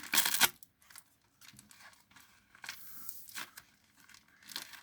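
An advent calendar package being opened: a loud burst of tearing paper, then scattered softer crinkles and rustles of packaging close by, with no talking.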